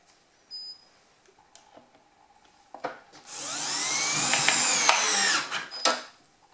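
A power screwdriver drives screws into door hinges with a loud, close whirring whine that rises in pitch and holds for about two seconds, set between a few softer handling knocks and clicks.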